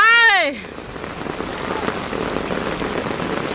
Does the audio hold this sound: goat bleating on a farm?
no